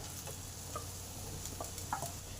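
Boiled potato frying and being stirred into spiced masala in a pan for an egg and flour breakfast dish, a steady low sizzle with a few light scrapes and taps of the spoon against the pan.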